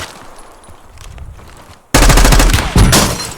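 Automatic gunfire in a shooter video game erupts suddenly after a quieter stretch, loud rapid bursts with a second volley following, close and dominant with no talk over it.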